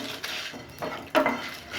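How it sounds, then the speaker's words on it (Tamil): Cinnamon and whole spices dry roasting in a pan without oil, with a few faint scrapes and clinks of a utensil against the pan over a quiet background. "எண்ணெய் சேர்க்காமல் இதை நல்லா ட்ரை ரோஸ்ட் பண்ணி எடுத்துக்கலாம்"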